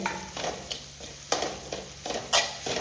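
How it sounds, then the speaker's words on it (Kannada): Grated coconut being fried and stirred in a pan, giving a soft sizzle broken by repeated scraping strokes of a spatula, heard close up with no voices. "ಈಗ ಅದೇ ಬಾಣಲೆಗೆ ಸ್ವಲ್ಪ ತೆಂಗಿನ ತುರಿ ಬೇಕಾದಷ್ಟು ತೆಂಗಿನ ತುರಿ ಹಾಕಿ ಇದನ್ನು ಕೂಡ ಸ್ವಲ್ಪ ಫ್ರೈ ಮಾಡಿದರೆ"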